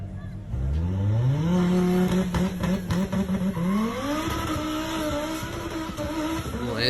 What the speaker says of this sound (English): This little Audi right here sounds pretty incredible